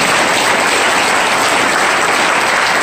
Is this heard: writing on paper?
no